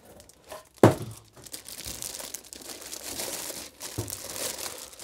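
Packaging around a VEVOR ultrasonic cleaner tank is unwrapped: close, continuous crinkling and rustling of wrapping, with one sharp rip near the start and another tearing crackle later.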